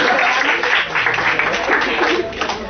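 Students in a classroom applaud their teacher with steady, dense clapping that fills the whole moment, fairly close and loud, with no talk over it.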